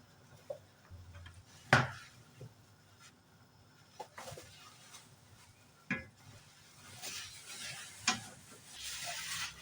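Sweet potato cooking in a pan for a Filipino bilo-bilo dish gives a soft, quiet sizzle broken by a few sharp knocks and scrapes of a utensil against the pan. A louder hiss swells near the end.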